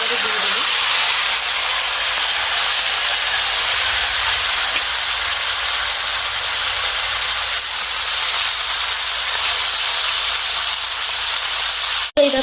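Freshly caught singhi fish fry together in hot oil, producing a loud, continuous hissing sizzle that holds steady until an abrupt bump at the end.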